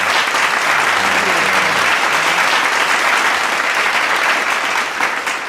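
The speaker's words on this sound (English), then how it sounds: "We're going to go ahead and just clap that up one more time." Dense, loud clapping from a group of people fills the whole stretch evenly, fading slightly at the very end, with a voice briefly audible underneath.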